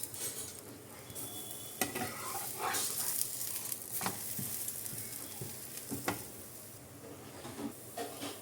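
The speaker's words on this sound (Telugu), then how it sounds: "ఇప్పుడు పరాటాను దీని మీద వేసుకొని 2 సైడ్స్ కూడా గోల్డెన్ బ్రౌన్ కలర్ వచ్చే వరకు మనం దీన్ని కాల్చుకోవాలన్నమాట" Aloo paratha frying in butter on a pan until golden brown on both sides: a quiet, even sizzle with occasional soft clinks and scrapes of a utensil, close by and low in level.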